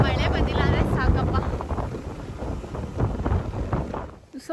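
Wind blows and buffets the microphone at the Dhondenling Tibetan settlement in Karnataka, a rough, gusty roar rising and falling with faint voices mixed in.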